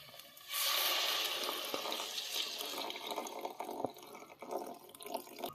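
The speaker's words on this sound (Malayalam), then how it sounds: "ഇനി നമ്മൾ വെള്ളമാണ് ഒഴിച്ചു കൊടുക്കുന്നത്." Water poured into a pan of egg puff filling on the stove, a sudden steady splashing gush that settles into a continuous trickle and bubbling, close and fairly loud, with no talk.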